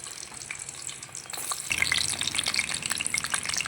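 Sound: cut brinjals frying in hot oil

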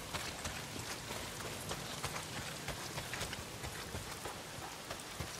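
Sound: heavy rain falling, from video game Days Gone

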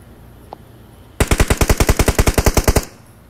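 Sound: gunfire in video game PUBG Mobile zombies mode

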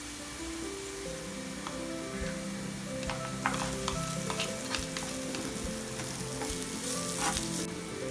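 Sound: onion, grated ginger and garlic sautéing in a pan

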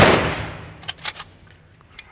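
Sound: rifle volley fired as funeral honour salute

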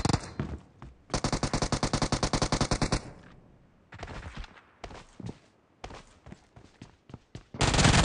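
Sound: gunfire in the video game PUBG Mobile

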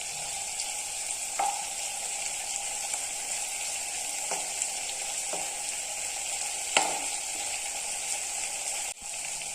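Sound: shrimp frying in coconut oil

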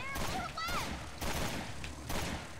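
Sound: gunfire in the video game Resident Evil: Revelations 2

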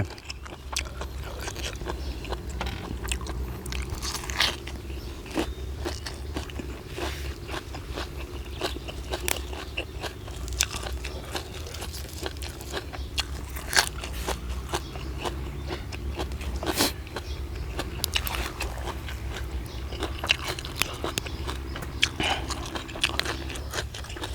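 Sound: eating and crunching crispy apple snails

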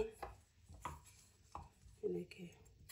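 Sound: potatoes being chopped with a knife

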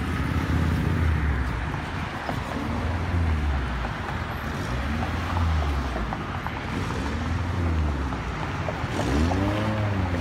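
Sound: Honda Prelude car engine idling

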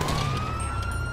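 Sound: police siren in video game GTA 5

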